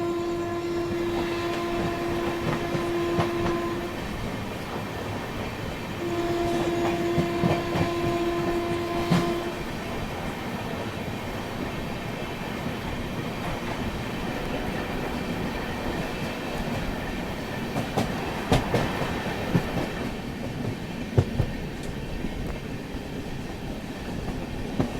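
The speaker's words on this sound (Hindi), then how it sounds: "और ये किसी मेमू को हम लोग ओवरटेक भी कर रहे हैं। वेब 5 लोकोमोटिव है तो एक्सेलरेशन तो अच्छा होना चाहिए।" A passenger train hauled by a WAP 5 electric locomotive rolls steadily while overtaking a MEMU, giving a continuous close rumble with rail clatter and two sustained horn blasts early on.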